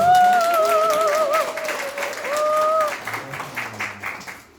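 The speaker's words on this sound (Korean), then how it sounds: "우리 한창대니까 큰 박수 함성까지" A crowd at a Korean association gathering breaks into loud applause, with tonal cheering or whistling rising over the clapping early on before the noise thins and fades.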